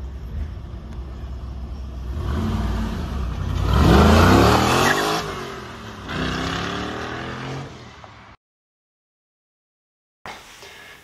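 An LS V8 swapped into a Porsche 911 and breathing through a high-flow cat and the factory unmodified exhaust revs up in a loud, rising sweep, then settles into a throaty idle before cutting to silence.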